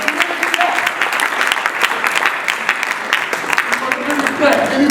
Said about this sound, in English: I applaud you for that.